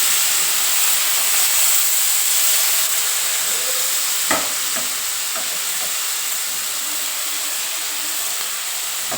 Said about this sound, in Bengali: যেহেতু চুনো মাছটা করবো আমি চুনো মাছটা ভেজে নেব